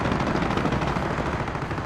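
Rapid, dense machine-gun fire crackling without pause in the WWII strategy game Company of Heroes, a steady fusillade at moderate volume.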